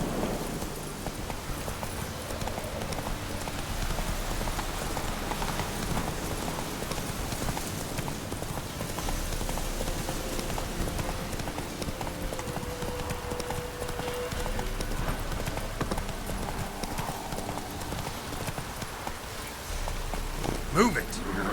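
Horse hooves clip-clop at a steady trot in The Witcher 3 video game, a rhythmic clatter over a rainy soundscape, continuing for the whole stretch and joined by brief spoken game dialogue.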